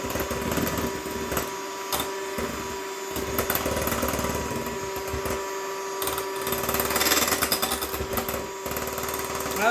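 Electric hand mixer whips sugar into lemon meringue for a pie, a steady loud whirring drone with rattling and scraping against the bowl, running continuously for the whole stretch with no talk over it.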